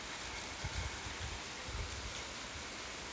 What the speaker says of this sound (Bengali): দেখো কত সুন্দর বৃষ্টি পড়েছে